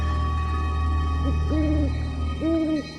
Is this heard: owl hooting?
yes